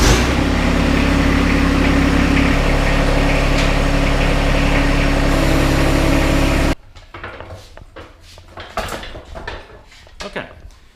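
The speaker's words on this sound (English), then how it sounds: "now we need to back the tractor up a little bit here and kind of drive it right in toward the" A John Deere 1025R compact tractor engine runs close by, a steady loud drone with metallic clatter, then cuts off abruptly partway, leaving quieter scattered knocks and handling noise.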